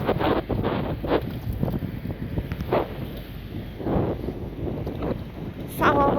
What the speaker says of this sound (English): It is windy but it's dry